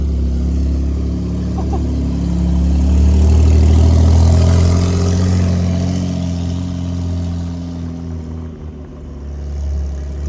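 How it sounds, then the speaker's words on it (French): A turbocharged car engine on a Paris street, a deep idling drone that swells into a rev and settles again, loud and close, with a thin high whine entering partway through. "Ah, le bruit des turbos aussi."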